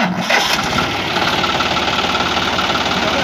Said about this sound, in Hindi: लो भाई ट्रैक्टर ना स्टार्ट करो।